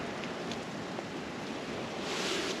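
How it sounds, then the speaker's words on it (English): Strong wind roars steadily outdoors at a hunting blind, a dense, unbroken rush with gusty swells and buffeting against the microphone, and no voices. "It's very windy."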